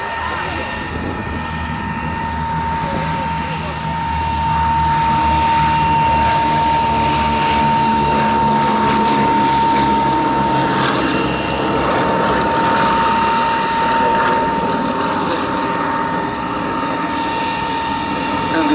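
The B-17 bomber Sally B climbs away at the Duxford air show, a steady droning roar of piston propeller engines that swells and holds, with a commentator talking over it throughout.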